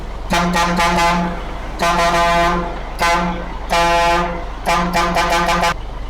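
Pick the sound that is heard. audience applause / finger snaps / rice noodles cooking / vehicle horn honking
vehicle horn honking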